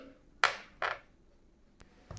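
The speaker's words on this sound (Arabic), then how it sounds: "وهسيبكم بقى تسمعوا صوت الطبلة بقى وانا بطبل عليه." A homemade Ramadan musaharati drum with a metal side and a plastic side is struck twice in quick succession, with sharp, close hits, followed by a couple of fainter taps.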